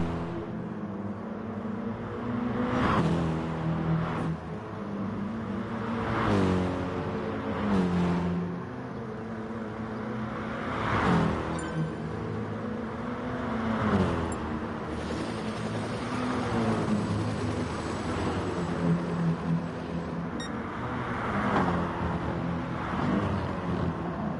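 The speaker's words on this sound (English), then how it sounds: "So as we watch a few of the cars going around having a practice before we get the race" Race cars lap a circuit during practice in GT Sport, engines rising and falling as several cars sweep past one after another, with steady motor drone throughout and no talk.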